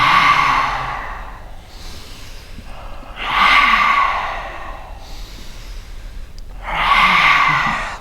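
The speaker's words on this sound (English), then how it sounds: "Breathe." Deep breaths in and out during a guided breathing exercise, three slow, loud, near exhalation-like rushes of air separated by quieter pauses, with no talking.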